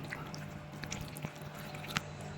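Hands squish and work spice masala into raw chicken pieces, a quiet, continuous wet squelching close by with a few soft smacks.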